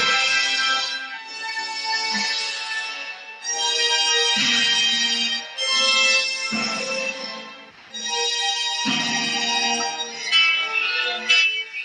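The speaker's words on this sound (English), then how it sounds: "Ringing the bell." A bell rings in a steady series of about six strikes, each bright tone lingering and decaying into the next without a break.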